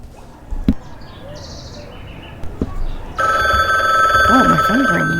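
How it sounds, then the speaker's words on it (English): A phone starts ringing partway through, a sustained electronic ring that begins abruptly and continues steadily after quieter rustling, clicks and faint ambient sounds. "Oh, my phone's ringing."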